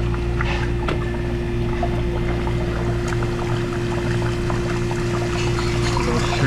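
Water draining through the plastic drain hose of a Hoshizaki ice maker, a steady trickling pour over a constant machine hum, close and fairly loud with no talk.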